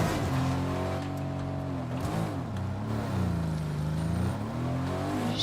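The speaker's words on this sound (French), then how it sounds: "Peut-être on va prendre la voiture, je pense." A car driven in a video game, its engine humming steadily with rising and falling revs that shift pitch as it accelerates, close and continuous with no talking.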